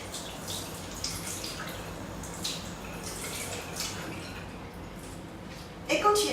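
A wet makeup brush is rinsed in water, giving a steady soft splashing and dripping that runs throughout, with a louder clatter right at the end.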